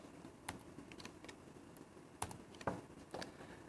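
Keys tapped on a computer keyboard while entering a search term: a handful of sparse, faint clicks spread unevenly over a quiet background.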